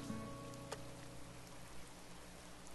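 Steady, soft rain falls in Animal Crossing: New Horizons during a fishing outing, a continuous even hiss with a brief faint chime early on.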